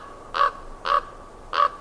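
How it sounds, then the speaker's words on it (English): A large crow calls overhead with three loud, evenly spaced caws, each short and harsh, standing alone against a quiet outdoor background. "There's a very large bird up there."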